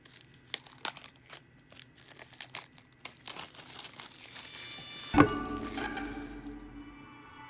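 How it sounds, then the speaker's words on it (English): Plastic wrap on an AirPods Pro box crinkles and tears as the pull tab is tugged, a run of close crackling rustles ending in one sharp rip that fades into quieter handling. "There's a little pull tab on the side. I guess this makes it easier to rip this all off."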